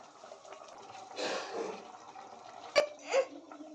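Water is poured into a pot of chicken sambar as it cooks, giving a soft splashing wash with two brief sharper splashes near the end, fairly close and moderately quiet, with no talking.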